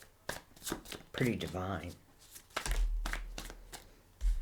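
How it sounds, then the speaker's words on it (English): Tarot card shuffling: a few quick riffling bursts and crisp flicks of cards, close by, with a person talking over them. "I feel like I've been shuffling for a while."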